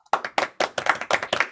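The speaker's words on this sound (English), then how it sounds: "Everybody clap." Sharp bursts of clapping from an audience at a live Christmas comedy show, about six uneven clusters of claps in quick succession with brief gaps between them, close and loud.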